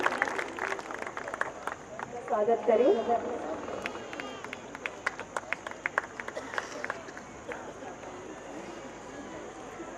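Audience applause at a Kavi Sammelan poetry gathering for Mrs Mumtaz Naseem, with a burst of clapping swelling briefly amid crowd murmur, while a host speaks over the room.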